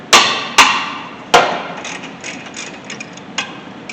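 A 17mm wrench loosens the caliper bracket bolts on a 2013 Honda Civic during a brake job. Three sharp metallic clanks come close together, followed by fainter ticks and light rattling.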